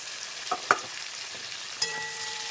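Chopped onions with curry leaves frying in oil for a prawn curry, giving a steady close sizzle with a few sharp stirring clicks and no talk.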